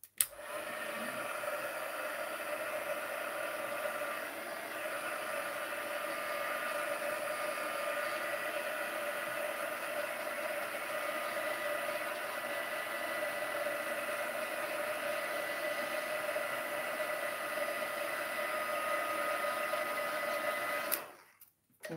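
A hair dryer blows over a watercolor painting, running as one loud, steady, continuous whir for about twenty seconds before cutting off abruptly.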